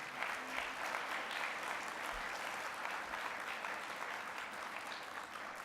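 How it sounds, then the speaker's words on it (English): Applause at a school writing challenge program, a dense even wash of clapping from a crowd, distant and quiet, continuing unbroken. "Give all those people a round of applause."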